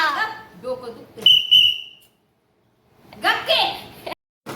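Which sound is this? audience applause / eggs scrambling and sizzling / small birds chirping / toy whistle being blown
toy whistle being blown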